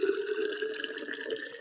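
Hot water pours steadily in a continuous stream with a rising filling tone, close and moderately quiet, with no talking.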